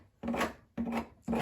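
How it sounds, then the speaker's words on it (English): A scraper edge rasps out dried wood hardener in three separate scraping strokes, each a close, gritty rub lasting about half a second with short pauses between. "using the edge of the scraper, ensure it's scraped out"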